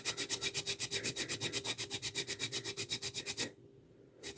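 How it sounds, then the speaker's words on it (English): Sandpaper rubbed by hand with light pressure inside a model makes a fast, even back-and-forth rasping of about seven strokes a second. The strokes are close and steady, then stop briefly before starting again. "I'm not putting a lot of pressure, I'm just letting the sandpaper do the work."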